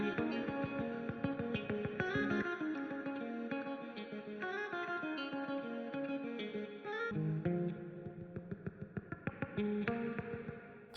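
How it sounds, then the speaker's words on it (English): Two layered electric guitars with reverb carry a song's outro, busy chiming melodic lines over a soft bed with a washy, lively tail and no voices. "for the last outro, the last hook of the song, there are two layers of guitars"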